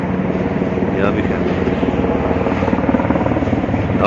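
Helicopter flying over the tent-filled Mina Valley in Makkah, a loud continuous rotor drone with steady chopping pulses that stays close and dominant throughout.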